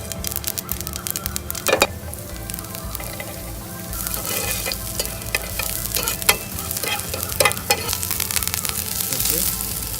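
Mustard seeds, cumin seeds and black dal fry and crackle in hot oil in a kitchen, giving a steady sizzle across the whole stretch with sharp pops and the scrape of stirring mixed in.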